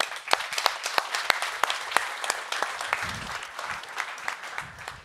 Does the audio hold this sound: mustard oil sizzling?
no